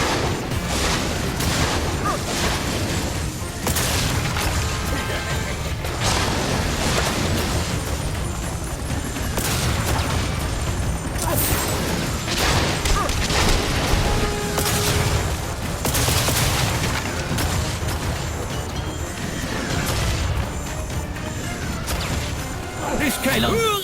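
Cannonballs fire repeatedly in the video game Skylanders Imaginators, a dense run of booms and crashes over busy game sound, with character voices speaking at times.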